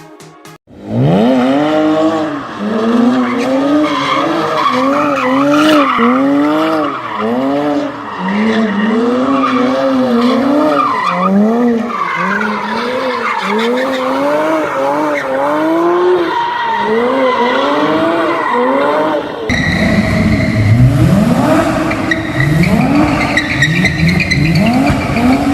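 A 3.4-liter flat-six Porsche Cayman S mid-engine coupe, 295 horsepower, racing in Need for Speed: loud repeated engine revs rising and falling through gear changes with long tire squeals, the pitch swooping over and over.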